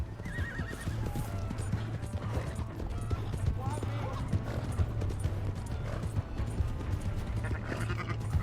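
Hooves clip-clop rapidly as a horse gallops in Red Dead Redemption 2, with whinnies and voices shouting over the steady drumming of hooves.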